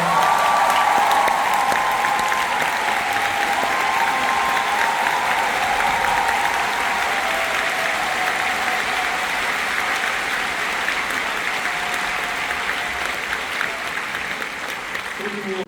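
Long, sustained applause rolls through a large concert hall for an orchestra and conductor after a symphony concert, dense and even, easing slightly toward the end with faint voices beneath.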